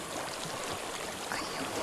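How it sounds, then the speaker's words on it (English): Gentle flowing water in a dark fantasy game setting, a soft continuous wash of trickling and rushing stream noise, steady and moderately faint with no voices. "I hear water."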